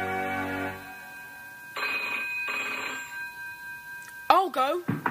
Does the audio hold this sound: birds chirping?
no